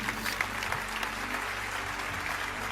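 Sustained applause from a large church congregation during a service, steady and enthusiastic, filling the room throughout with no pause.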